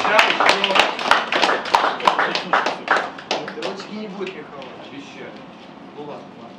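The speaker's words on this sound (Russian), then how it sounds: "Ладно, аплодисменты." Applause from a live audience at a poetry stage performance, a dense burst of hand claps that starts loud and gradually thins and fades over several seconds.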